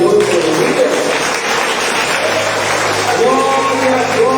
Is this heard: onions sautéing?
no